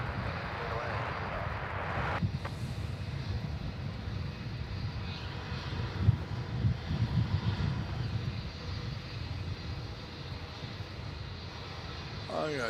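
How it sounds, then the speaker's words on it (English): A Jetstar Airbus A320neo landing on runway 27 at Melbourne Airport, a low distant engine rumble and roar that swells gradually through the middle and tapers off, heard alongside people talking nearby. "That's the 320 Neo coming in on 27."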